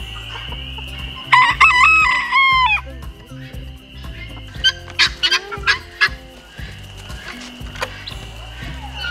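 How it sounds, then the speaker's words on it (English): A white rooster crows loudly and close by, with repeated rising calls and clucking from other chickens, against steady low background hum. "That white rooster right there."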